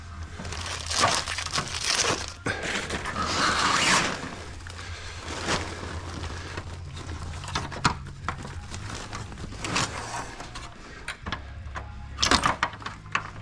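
Plastic clips snap and click into a Ford F250 Super Duty grille amid handling noises, crinkling and scraping of the parts, with scattered sharp clicks close by.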